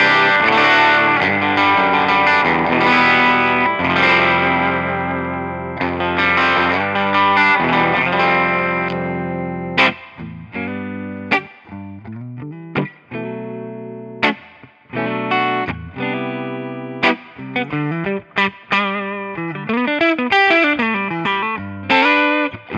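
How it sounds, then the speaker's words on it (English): An electric guitar through a Dumble-style amp preset on an Amplitube TONEX pedal, with edgy, barely broken-up distortion on chords and then single-note runs with sharp attacks and decaying sustain. "You can hear all the little subtleties of that like edgy, almost clean, almost distorted sound"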